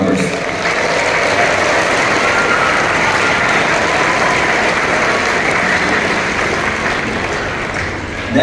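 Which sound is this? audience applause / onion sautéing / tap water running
audience applause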